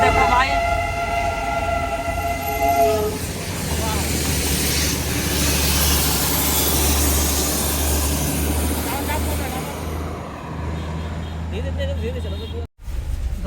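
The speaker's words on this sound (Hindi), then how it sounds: "ये देखिए यहाँ पे टॉय ट्रेन" The Darjeeling toy train in Darjeeling, West Bengal, is heard as a loud whistle blast at the start, followed by a steady low rumble of the train running close by.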